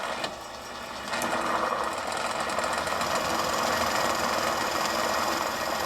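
Drill press boring into wood with a Forstner bit while making a pasta drying rack, a steady whirring motor hum with grinding cutting noise that starts after a brief pause and continues evenly nearby.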